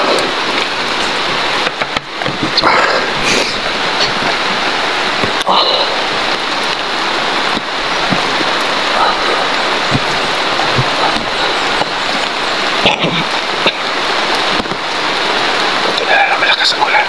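Heavy rain pours down steadily in a broad, constant hiss that stays loud and even throughout, with a few sharper drop impacts standing out now and then.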